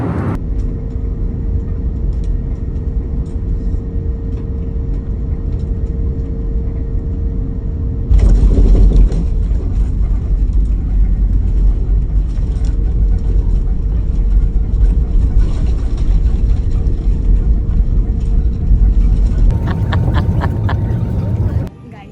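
Steady airliner cabin roar during a domestic flight from Mumbai to Nagpur at about 14,000 feet, a constant low engine and airflow drone that thickens and grows louder partway through, with faint talking underneath.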